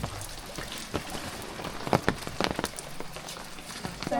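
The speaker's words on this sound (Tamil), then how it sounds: "மழை பெய்யுது" Rain falling outdoors during the rainy season, a steady patter with scattered sharper drips landing nearby on surfaces, moderately loud and uninterrupted by speech.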